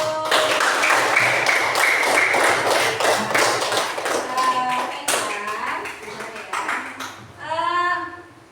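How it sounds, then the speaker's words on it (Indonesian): Classroom of fifth-grade pupils clapping together for a classmate, a dense burst of close claps filling the room for several seconds, fading toward the end as children's voices and chatter rise. "Tepuk tangan dulu"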